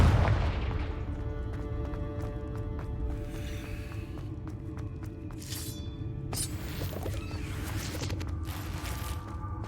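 Fiery Confringo spell blasts from the Hogwarts Legacy video game burst out at least twice, loud and sharp, over a dense rumbling game soundscape with crackling debris.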